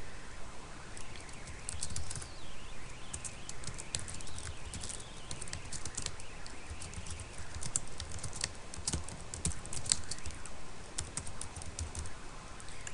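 Typing on a laptop keyboard, a quiet, irregular patter of key clicks in bursts and pauses, close up and without voices.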